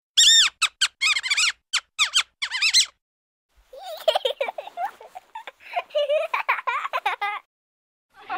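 A human voice imitates the high squeaks of a guinea pig pup, a burst of rapid sharp squeaks, then after a pause a second, looser series of squeaky chirps, close and clear.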